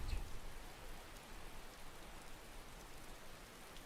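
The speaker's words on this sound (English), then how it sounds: "And we're back with the rain." Steady rain falling in the video game Skyrim, a continuous soft hiss of drops on surfaces, even and unbroken throughout, moderately quiet with no voices.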